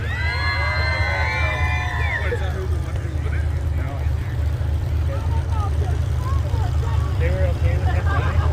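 Crowd at a winter demolition derby cheering and whooping loudly, with shrill shouts at the start settling into a steady roar over a constant low engine rumble.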